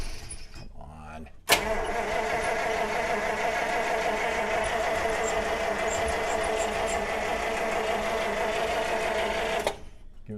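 The engine of a 1948 Buick Roadmaster Woodie estate wagon idles steadily after catching, kept running on fuel dribbled in by hand, with a loud, even rumble that starts abruptly and cuts out near the end.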